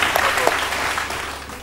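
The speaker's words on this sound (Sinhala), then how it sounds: "දෙන්න ක්ලැප් එකක්" A studio audience at a TV show claps in a short, dense burst of applause that starts strong and tapers slightly, with a voice faintly mixed in.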